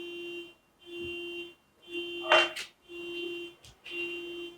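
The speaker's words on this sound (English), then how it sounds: "And a car alarm." A car alarm beeps in a steady, repeating pattern, each tone lasting about half a second with short gaps, heard from a distance in a quiet room with a brief louder noise partway through.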